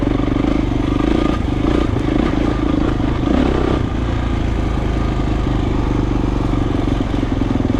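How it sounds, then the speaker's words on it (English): A Honda motocross motorcycle with stiff suspension rides on the Flagstaff to Grand Canyon 100 mile run in Arizona, its engine droning loud and steady throughout, with rattling clatter and constant wind-blown rumble. "That Honda's a motocross bike, and the suspension's really stiff."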